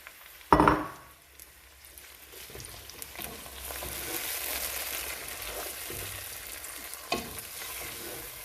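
Mint, tomatoes and green chilies hit a hot pan for biryani with a sharp clatter, then a steady close sizzle builds and keeps frying evenly.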